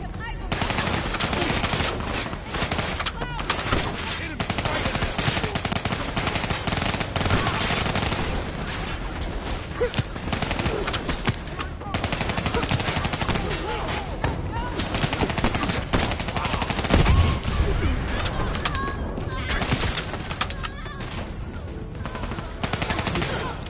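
An enemy gunner's mounted machine gun in the Call of Duty Black Ops 3 co-op campaign fires loud, continuous bursts without pause, mixed with dense battle noise and occasional voices.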